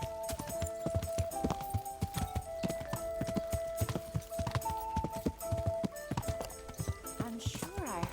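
Horse hooves clop in a quick, regular trotting rhythm in Kingdom Come: Deliverance, close and clear, over faint sustained musical tones.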